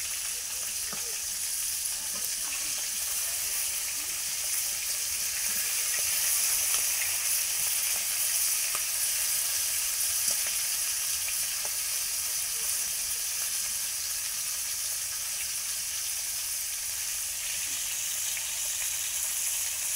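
Fish fries in hot oil in a pan, giving off a loud, continuous sizzling hiss that stays steady for the full twenty seconds, close up with faint crackles and no talking over it.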